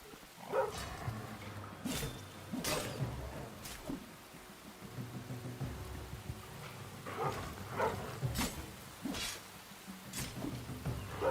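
Dog-type enemies in the video game Enshrouded snarl and bark in short bursts, some sharp and loud, over a steady game background with rain-like hiss.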